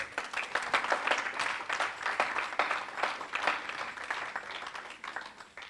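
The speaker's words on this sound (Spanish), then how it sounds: "Alguien puede darle un aplauso al Señor." A church congregation claps for the Lord during a Spanish-language sermon on persecution, a sustained round of crisp, distinct claps that is moderately loud and continuous for several seconds with no speech.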